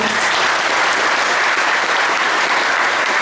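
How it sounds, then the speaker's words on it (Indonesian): A teen meditation group breaks into dense, sustained applause, a full wash of many hands clapping loudly and evenly from start to finish. "Tepuk tangan dong."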